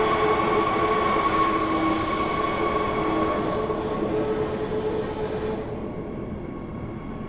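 Loud, continuous high-pitched squeal of train wheels grinding through a sharp curve on a railway near Perth, sustained throughout and easing off slightly toward the end, with rumbling carriage noise beneath and no talking.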